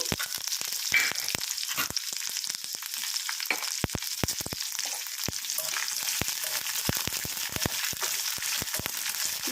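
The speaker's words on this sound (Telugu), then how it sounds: "ఈ పచ్చిమిరపకాయలు వేగే లోపల మనకు శనగపప్పు, మినపప్పు కూడా 2 శుభ్రంగా వేగిపోతాయి" Green chillies frying in hot oil along with chana dal and urad dal for a raw banana chutney, a steady hissing sizzle with scattered crisp crackles and pops, close up and unbroken.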